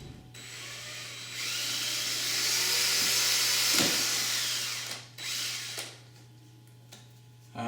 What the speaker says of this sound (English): You only drill the top 2 holes